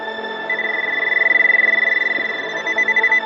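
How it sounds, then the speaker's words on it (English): A steady high electronic beep from an underwater metal detector in a lake sounds for a few seconds with a fast warbling pulse, clear and close over a faint hum. "Whenever there's a beep, there's metal."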